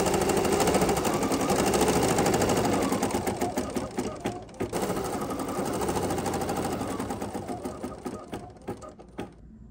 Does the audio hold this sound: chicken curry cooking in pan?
no